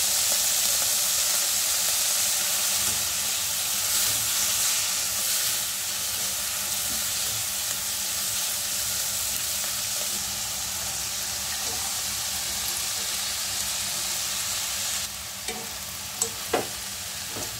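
Cabbage is stirred in a hot frying pan with salt and soy sauce for panci-ghetti, giving a continuous sizzle with soft stirring scrapes and a few sharper knocks near the end.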